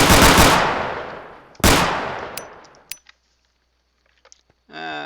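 An RPK machine gun fires in a Minecraft server game: two loud, booming shots with long decaying echoes, a few faint metallic clicks after them, then a voice starting to talk at the end.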